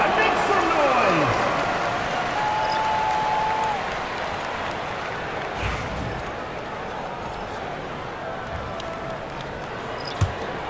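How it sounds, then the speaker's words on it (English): Arena crowd applause and steady cheering fill a basketball video game, WNBA 2K25, Seattle Storm vs Washington Mystics. A continuous roar sits under an announcer's voice, with a sharp thud near the end. "Please give a big round of applause for the Cavaliers, your new dance squad. Make some noise."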